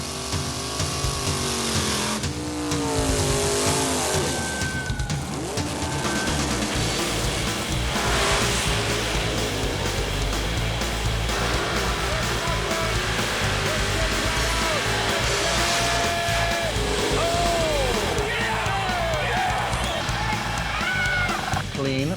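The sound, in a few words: drag race pass, small block Chevy 78 Monza vs 65 Mustang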